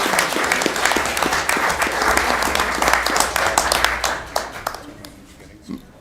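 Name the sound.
applause for Skills USA winners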